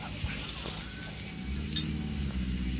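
Steady sizzling of pork frying on a Thai tabletop grill (moo kratha) at a campsite, a continuous crackling hiss with a few faint clinks of utensils.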